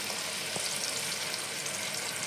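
A paste of cashews, green chillies, raisins, poppy seeds and milk sizzling in a hot pan over low flame, a steady close frying hiss with a faint stir.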